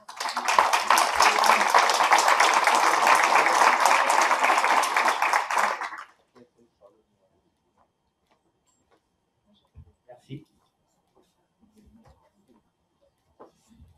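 An audience at an extraordinary general assembly claps for about six seconds, a dense and fairly close burst of applause that stops abruptly, followed by near silence with a few faint clicks and rustles.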